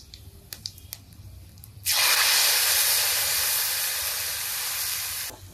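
Ginger, ripe green chili and tomato paste hit hot oil with a sudden loud, steady sizzle that holds for several seconds before cutting off, after a few soft kitchen clicks.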